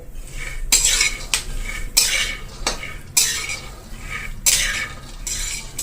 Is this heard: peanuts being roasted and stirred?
yes